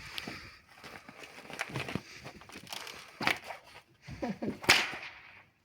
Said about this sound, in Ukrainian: Отакий румунський батіг.